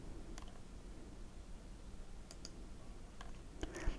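Mouse clicks during a Project Reality military shooter game on PC, a few faint, sharp clicks scattered over quiet background hiss, with a slightly louder pair near the end.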